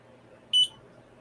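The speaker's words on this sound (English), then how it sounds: "there's some modelling clay on top of the buzzer, so it's not too loud for the microphone" The buzzer of a Pimoroni PicoSystem handheld console, muffled under modelling clay, gives a single short, high beep against a quiet background.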